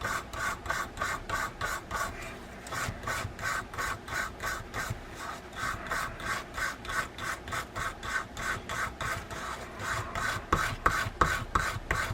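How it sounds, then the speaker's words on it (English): A hard bristle brush scrubs the drag washer of a Penn International II 80TW saltwater fishing reel in quick, regular back-and-forth strokes, each one a close, dry rasp repeating steadily throughout. "to service the drag washer is to get a hard bristle brush"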